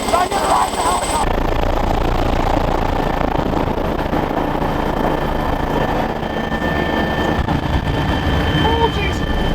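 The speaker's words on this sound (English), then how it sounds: "I'm gonna ride the helicopter." A helicopter's engine and rotor drone steadily and loudly from close by, a dense whirring roar with a constant hum, while people talk over it.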